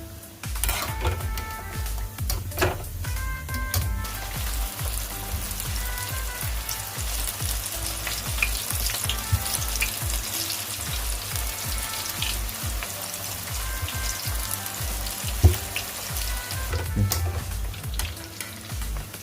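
Manchurian balls deep-fry in hot oil with a steady crackling sizzle, joined by occasional stirring and light clinks of utensils against the pan, heard close up without talk.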